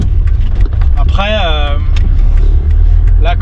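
A 1989 Peugeot 205 1.1 XL engine revs up as it accelerates in second gear, the pitch climbing quickly, with steady road noise and a voice talking over it.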